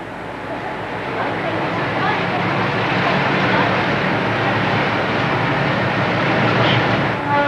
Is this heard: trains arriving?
yes